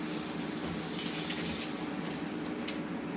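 Water runs steadily from a kitchen tap while a dish is rinsed, a loud, even gush close by with no break and no voices.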